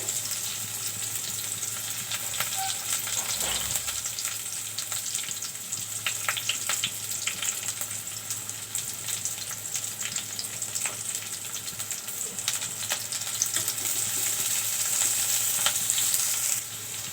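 Chopped onions and sliced green chillies fry in a pan for a country chicken curry, giving an even, close sizzle that carries on steadily with faint stirring scrapes.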